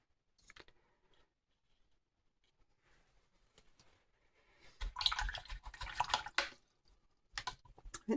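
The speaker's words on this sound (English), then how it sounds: "Rinse that brush out." A watercolour brush swished and rinsed in a water jar, with faint drips early on, then a louder sloshing burst of rinsing mid-clip and a short final splash, no talking.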